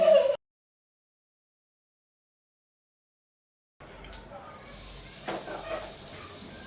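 A pressure cooker cooking rice and lentils hisses steam in a continuous close spray after a short gap of silence, the hiss swelling louder and holding steady.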